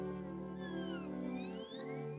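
A cartoon cat meows in a drawn-out, wavering cry with sliding pitch, sitting over a continuous musical score in a classic Looney Tunes short.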